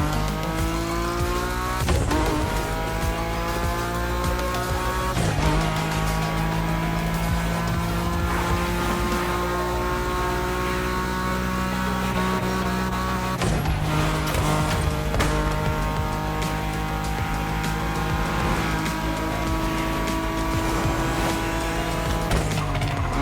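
Tires squeal through long, sustained drifts of a car in The Crew Motorfest, loud and close over a roaring engine whose pitch climbs and drops with each slide, nearly continuous with a few sharp shifts.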